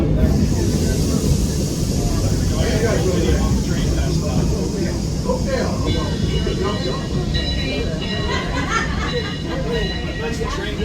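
Sierra Railway steam excursion train out of Railtown 1897 rumbling along the track, a continuous heavy low roar with mechanical rattle, heard from aboard while passengers talk nearby.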